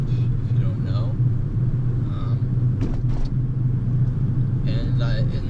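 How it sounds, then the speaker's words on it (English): Interior drone of a 2014 Mazda MX-5 convertible sports car on the road, a steady low engine and road rumble running throughout, with a few faint brief higher noises on top. "I have a Mazda MX-5 2014, and it's a convertible"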